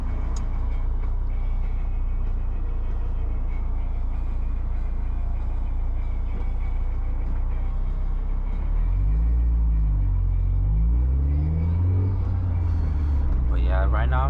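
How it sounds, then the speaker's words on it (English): A Mazda Miata drives along at night with a steady low engine rumble and road noise throughout, a voice talking over it near the end. "right now I'm just driving around in the car"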